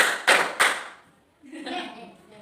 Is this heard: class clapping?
yes